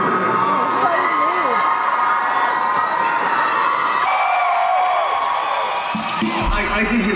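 A large concert crowd cheering and whooping, a loud continuous roar of many voices with shrill shouts rising over it, filling the whole stretch without pause.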